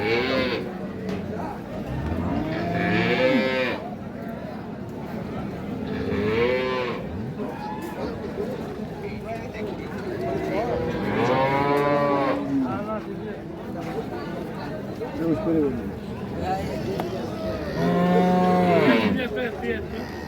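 Cows, including Sahiwal and Sindhi breed cows with calves, moo repeatedly at a Bangladeshi cattle market, with several long, loud calls rising over the crowd and people talking throughout.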